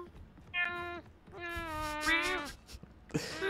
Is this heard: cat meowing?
yes